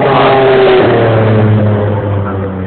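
A loud 956 race car engine roars close by, its pitch dropping as it speeds past and fades slightly away.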